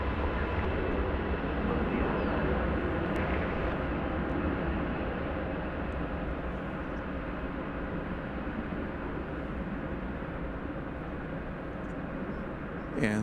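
A heavy jet airliner arriving at DFW Airport on a flight from Auckland rumbles as a broad, steady roar, sustained and fairly distant without a clear peak.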